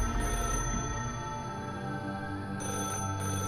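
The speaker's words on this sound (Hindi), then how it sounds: "तुषार को फिर से उस टेलीफोन के बजने की आवाज आई" A telephone rings in a horror story, a sustained, steady electronic tone that stays at an even level throughout with no voices.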